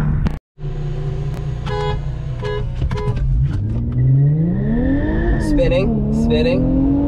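An Infiniti Q50 revs hard as its tires spin while accelerating in a race, a loud, close engine roar that climbs in pitch, with short horn-like toots and a voice in between.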